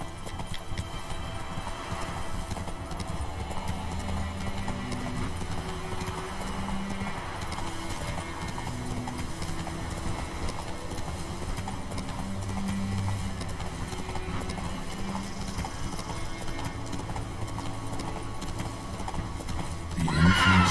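Roach, the horse in The Witcher 3: Wild Hunt, gallops steadily with close, rhythmic hoofbeats over a low game ambience, building toward a louder neigh at the very end; no one speaks.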